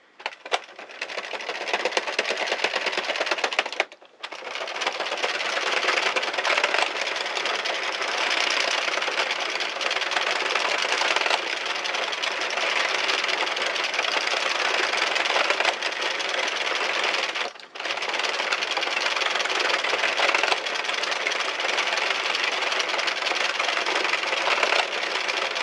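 A circular knitting machine cranks out rows of waste yarn, a loud continuous close mechanical whirring and clattering with two brief breaks, no talk.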